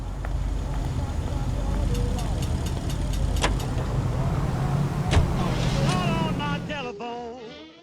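A car driving in the LA Noire video game, a steady engine and road drone running throughout, with clicks and brief tones on top and a short mechanical sweep near the end.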